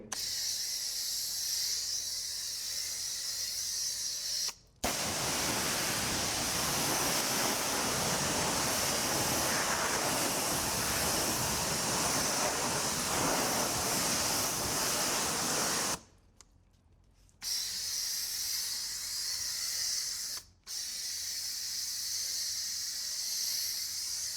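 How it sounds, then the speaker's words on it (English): A 2-in-1 sprayer blasts water to rinse a large GMC Yukon Denali, a loud continuous hissing spray broken by a few short pauses, with no talking. "The 2-in-1 sprayer is super clutch for this because you have to neutralize the acid and then rinse it off right away."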